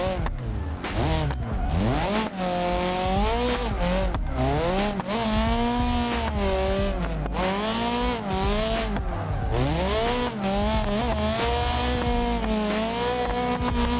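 A drift car in the BeamNG racing game, held on the e-brake through a slide: a loud, continuous engine note sweeping up and down in pitch with revs, mixed with steady tire squeal, sustained throughout.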